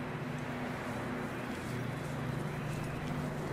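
Horse hooves clip-clopping in the Red Dead Redemption 2 video game, a soft, steady patter of footfalls at low level throughout.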